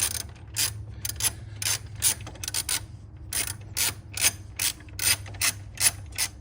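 A ratchet wrench removes a small 8mm bolt from the cooling fan assembly on the passenger side of a 2009 Ford Flex, making close, rapid bursts of sharp clicks in an uneven rhythm over a low hum.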